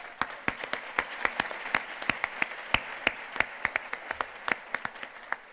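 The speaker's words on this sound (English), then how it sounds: "can we give her a round of applause?" Audience applause at a community breakfast event, with individual crisp claps standing out clearly over a softer bed of clapping from the room, steady and close for the whole stretch.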